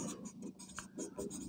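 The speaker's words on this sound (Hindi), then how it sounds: "यहाँ पर लिख सकते हैं हम लोग" Marker or chalk writing on a board during a physics lesson on Bernoulli's theorem and fluid dynamics, a run of short close scratchy strokes in an irregular rhythm, with a faint low hum behind.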